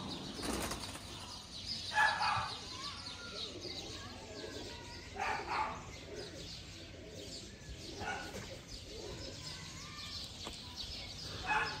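A pigeon beating its wings in several short flapping bursts near the start and middle, with faint cooing and chirps from birds kept at home in the background.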